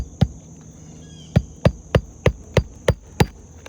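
A hammer drives a roofing nail into an asphalt shingle during a single-shingle roof repair on a house, giving eight sharp, close strikes: one, a pause, then seven in a quick steady rhythm over a faint background hum.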